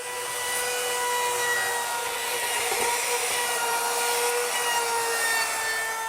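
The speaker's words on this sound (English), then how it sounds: "I am going to use the router to route over the edges" Router rounding over the edges of a wooden shop stand: a continuous, loud, high-pitched motor whine with a steady cutting hiss, unbroken throughout and with no talking.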